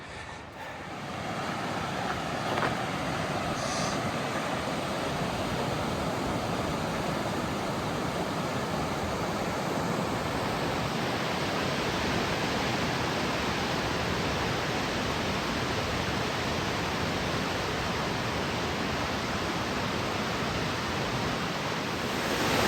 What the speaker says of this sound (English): Water's flowing off of Russell Glacier as well as Jefferson Park Glacier on Mount Jefferson.